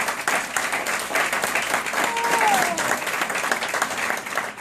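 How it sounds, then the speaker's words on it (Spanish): Church congregation at a Spanish-language service applauding loudly and steadily for several seconds, dense continuous clapping from a crowd with a faint voice briefly rising above it. "And then a great clap offering."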